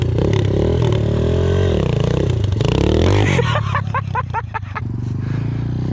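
Motorcycle engine revving in bursts during wheelie practice, a sustained rising and falling drone followed by a quick series of sharp throttle blips, close and loud with faint voices around it.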